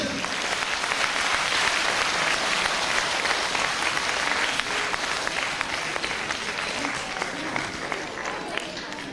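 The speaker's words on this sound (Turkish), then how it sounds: "kızgın alkış" A crowd gives sustained, dense applause at a graduation ceremony for a Quran course and mother-tongue kindergarten, clapping loudly and evenly throughout with a faint murmur of voices underneath.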